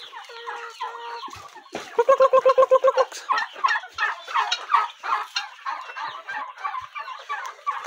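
Several turkeys gobble in rapid bursts, loud and close, with a steady run of clucks and chatter from other fowl continuing throughout.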